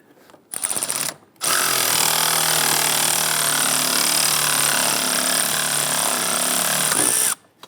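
A power tool whirs steadily while tightening bolts on a 2011-2021 Jeep Grand Cherokee 3.6L V6. One short burst comes first, then a long continuous run that stops near the end, loud and close.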